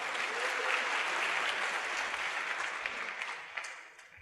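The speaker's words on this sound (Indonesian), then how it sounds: "Aplaus buat Anda Bapak Ibu" Audience applause from a crowd at an Indonesian motivational seminar, a steady dense wash of clapping that stays loud for about three seconds and then gradually thins and fades out.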